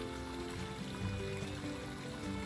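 Creek water flows steadily in the afternoon at a creek in Jervis Bay, a continuous low burbling trickle with a faint rushing hiss, close and even throughout with no talking.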